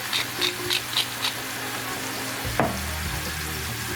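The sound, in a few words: ground meat and onions frying in a pan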